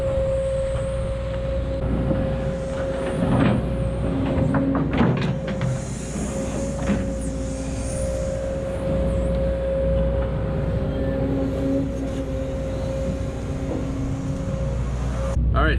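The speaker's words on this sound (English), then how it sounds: "We got Andrew in the excavator." A Link-Belt 210 X2 excavator digs a townhouse block basement. A steady engine hum runs throughout, broken by scattered clanks and scraping. Distant machinery and faint voices sit in the background.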